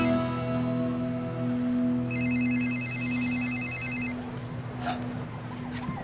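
A telephone rings in bursts, bright electronic ringing repeating for a couple of seconds over a steady low hum, with no talking.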